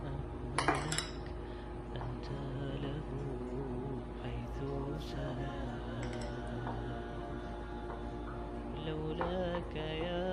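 Sprinkles being stirred into cupcake batter in a bowl, a utensil giving a few sharp clinks against the bowl at the start before settling into soft, steady scraping and mixing.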